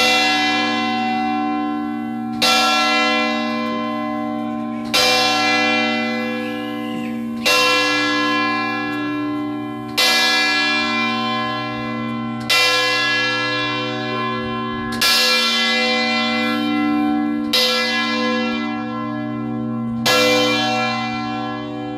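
Church bells of the Tower of Pisa in Italy toll steadily, roughly one loud strike every two and a half seconds, each ringing out with a long humming decay that overlaps the next.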